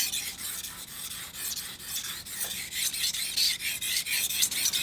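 A knife is sharpened on a King whetstone in quick, rhythmic rasping strokes, steady and close, with no voices.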